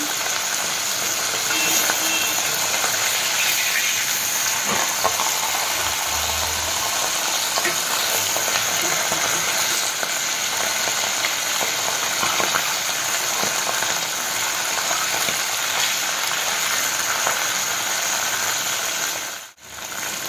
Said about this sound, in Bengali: এইভাবে আমি একে একে সব মাছগুলো ভেজে নিচ্ছি